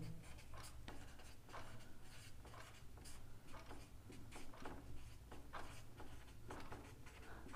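A pen scratches across paper while a maths geometry solution is written out, quick irregular strokes and taps in steady bursts, close and fairly quiet, with no talk.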